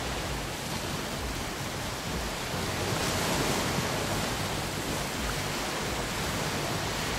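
Ocean waves in an Unreal Engine 4 game map make a continuous broadband wash of surf, steady and enveloping, swelling slightly louder midway, with no voices.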